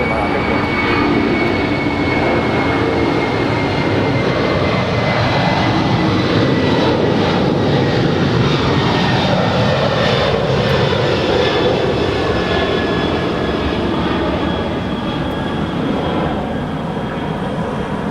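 Airplane jet engines roar loud and sustained at LAX airport, a broad continuous rumble that swells and slowly fades as the aircraft passes, with no talking.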